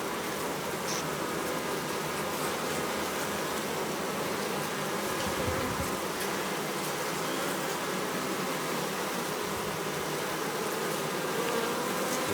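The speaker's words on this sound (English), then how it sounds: "the bees are definitely attracted to" Honey bees hum around a queen cage set on the hive, a steady, dense drone of many wings that holds at an even level throughout, with no voices.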